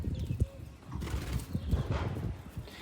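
Soft, low pigeon cooing repeats a few times nearby from a pigeon perched on a tower, with faint rustling and background noise between the calls.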